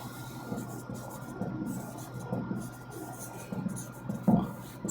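Chalk or marker scratching across a board during a Class 10 maths lesson, a steady run of short strokes and taps close by, with faint room noise and a brief louder knock near the end.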